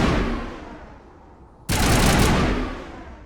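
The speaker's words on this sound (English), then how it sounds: "That's a loud gun, holy crap." Loud gunfire from the Mass Effect video game: a faint burst of shots and then an abrupt, very loud blast of rapid fire that holds for over a second before easing off.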